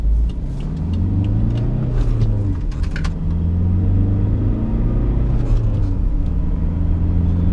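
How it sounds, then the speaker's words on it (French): A 2012 BMW 520d F10 engine revs up and accelerates in sport mode with a deep, steady rumbling roar that rises in pitch, loud and close throughout. "on va mettre en mode sport, on va faire une petite accélération"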